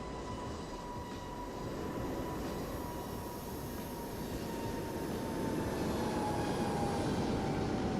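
Airliner jet engines roaring on a takeoff roll in a 737 MAX-8 flight simulator, a steady broad rumble with a faint whine that builds slightly louder over the stretch, heard alone.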